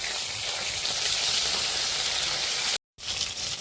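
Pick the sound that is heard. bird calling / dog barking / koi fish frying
koi fish frying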